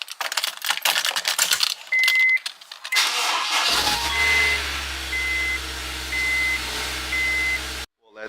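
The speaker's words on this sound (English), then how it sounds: "But let's go ahead and give it a nice cold start." A Honda S2000 cold-starts after some close clicking and handling noises, then settles into a steady, loud idle with a low engine drone and a repeating chime over it.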